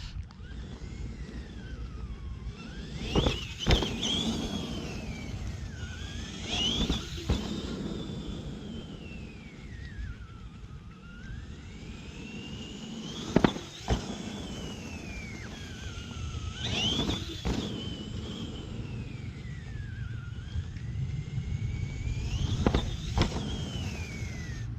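An Axial SMT10 radio-controlled monster truck drives along, its electric motor whining and rising and falling in pitch as it speeds up and slows, with occasional clunks and rattles over a rumbling, breezy outdoor background.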